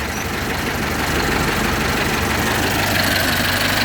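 A T-40 tractor engine idles loudly and steadily nearby, a constant chugging rumble with no other sounds standing out.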